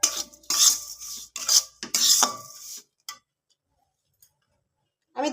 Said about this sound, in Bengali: তো আবারও আমি চিনি সুজি সব কিছু একসঙ্গে ভেজে নেব।